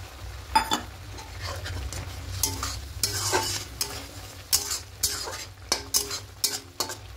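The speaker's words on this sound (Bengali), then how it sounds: "এবার ঝোলটা একটু ফুটতে শুরু করে দিয়েছি।" Egg posto gravy bubbling and sizzling in a pan, with scattered metallic clinks and scrapes of a spoon stirring against the pan, moderately close and fairly quiet.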